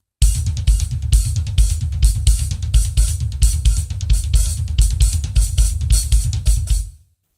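A drum kit plays a double paradiddle variation in fast, steady, punchy strokes around the kit for about seven seconds, close and loud, with no talk.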